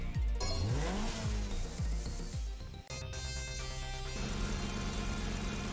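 A Bugatti Veyron roars in the racing video game Horizon Chase Turbo, its engine note climbing repeatedly through rapid gear shifts before settling into a sustained high drone over game music.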